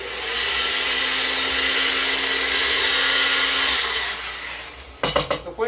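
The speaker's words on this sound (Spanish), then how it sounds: "Y nos vamos directo a batir." A kitchen blender whirs steadily for about four seconds, blending a burger sauce sweetened with honey. It then winds down and gives way to a few sharp clatters.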